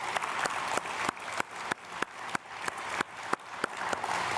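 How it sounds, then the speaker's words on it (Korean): A church congregation applauds during a Sunday worship service, with steady, rhythmic group clapping at a moderate level and evenly spaced sharper claps standing out over the wash of hands. "우리 박수로 축복하겠습니다"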